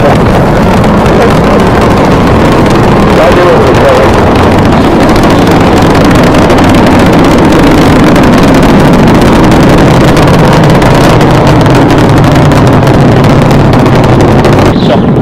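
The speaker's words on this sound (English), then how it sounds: "booster ignition, and liftoff of the Space Shuttle Discovery" A Space Shuttle Discovery launch roars at booster ignition and liftoff, a loud, continuous broadband rumble that fills the whole span without letting up.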